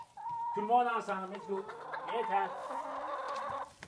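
Hens cluck in a brisk, close run of calls through most of the stretch, with a voice speaking over the flock.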